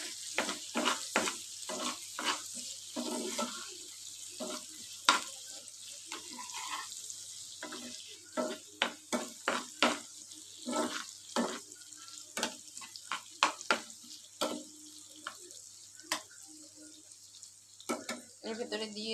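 Potatoes fry in leftover oil in a kadai with a little salt and turmeric. A faint crackle runs under frequent sharp scrapes and clacks of stirring, with soft talk now and then.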